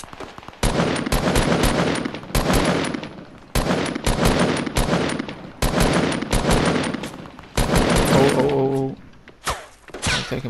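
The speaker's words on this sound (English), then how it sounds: "He's taking pot shots at me." Enemy gunfire in a shooter video game comes in repeated rapid bursts of automatic fire separated by short pauses, loud and sharp, with a few single shots and impact sounds.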